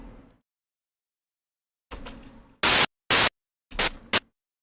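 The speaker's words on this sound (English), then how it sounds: "If I go with some white noise, some just like constant white noise, I can see when it turns off and on randomly." Bursts of constant white noise from a music producer's setup switch on and off abruptly, a few short loud hissing blocks separated by silence, with fainter rustling noise before them.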